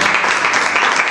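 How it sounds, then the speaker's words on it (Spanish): A church congregation applauding for the Lord during a Spanish-language service, a steady, loud wash of many hands clapping that fills the whole moment. "Dale un fuerte aplauso al Señor."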